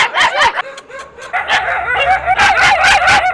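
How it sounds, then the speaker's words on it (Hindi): Several dogs barking and yipping excitedly, overlapping in rapid bursts close by, with whimpering yelps mixed in and no speech. "देखो भाई सारे कुत्ते भौंकने लग रहे हैं यहाँ।"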